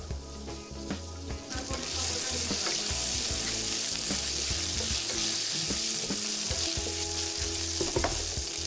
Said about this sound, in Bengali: আদা রসুন বাটা এক চা চামচ দিয়ে মাংসটি ভালোভাবে ভেজে নেব